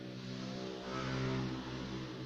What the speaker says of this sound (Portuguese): Se eu deixar essa moto passar aí que faz um barulho